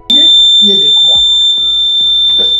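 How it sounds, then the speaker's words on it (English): A homemade wireless call bell buzzer, built as a DIY circuit on a 5V supply, sounds one steady, piercing high tone throughout, loud and unbroken while a person talks over it. "I will press the button and you will hear the buzzer sound."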